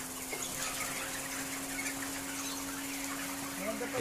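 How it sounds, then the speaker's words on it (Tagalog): Chickens on a poultry farm cluck and scurry after being startled by a newly switched-on fan, with a steady motor hum running beneath the scattered, moderately close bird sounds. "Ayun, natakbuhan na yung mga manok."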